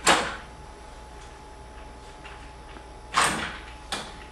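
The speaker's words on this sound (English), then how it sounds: "The chest prompt itself has 2 posts that slide into those clamps" The two posts of the chest prompt on a Rifton Pacer gait trainer slide into their clamps, giving two short scraping slides a few seconds apart and a small knock at the end, heard against quiet room noise.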